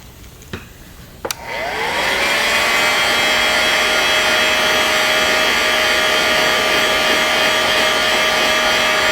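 After a couple of faint clicks, a heat tool used to heat-set paint on a bluegill fishing lure switches on and settles into a loud, steady blowing whine with a constant motor tone that continues to the end.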